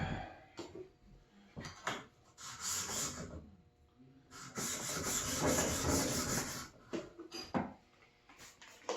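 An old plane iron is ground to remove a hollow spot, giving quiet rasping, scraping strokes in uneven bursts with short pauses between passes.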